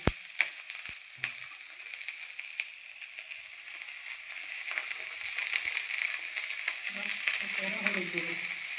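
Neem leaves and eggplant fry in oil in a wok on a gas stove. Sharp clicks and taps of stirring come first, then a quiet, steady sizzle that grows fuller halfway through.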